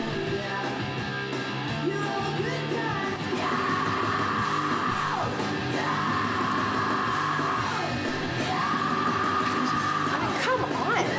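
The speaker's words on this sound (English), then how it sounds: "That's world-class screaming." Someone screaming in long, sustained high wails, three drawn-out cries each ending in a downward slide, over a dense loud backing of instruments and noise.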